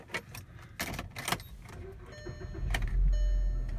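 Keys jangle in quick bursts, then a 2009 Volkswagen Jetta's engine cranks and catches, settling into a low, steady idle under faint warning tones.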